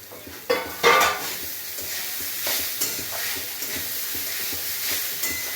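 Grated coconut roasting and being stirred in a pan, with a soft dry sizzle under repeated scraping strokes of a spatula or spoon, close and steady after a louder opening clatter.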